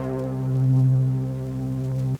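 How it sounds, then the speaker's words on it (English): A single Roy G Biv bass one-shot from a synth sample pack plays on its own: one deep, sustained, buzzy tone that swells slightly and then cuts off sharply after about two seconds. "And then we move on to the bass one shot."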